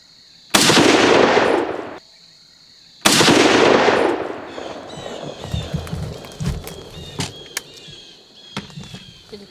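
Two loud, sharp rifle shots from a 1943 M1 Garand fired outdoors, each with a long booming tail, followed by rustling, footsteps and handling noises.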